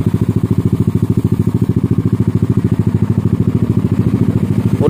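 Yamaha automatic scooter fitted with a stainless steel racing full-system exhaust, idling up close with a steady rapid low pulsing thrum and slight clatter, loud and alone.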